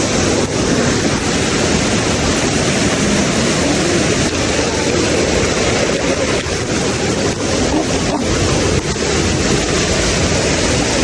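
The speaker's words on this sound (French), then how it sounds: "En fait, on est au pied de la cascade." Waterfall roaring at its foot in a tropical setting, a loud, steady broadband rush of falling water with some wind buffeting the microphone, continuous throughout with no voices.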